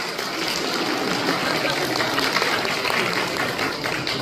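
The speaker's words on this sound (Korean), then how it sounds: "뜨거운 박수 부탁드립니다." Wedding guests applaud during a ceremony, a steady dense wash of clapping filling the hall for several seconds without letting up.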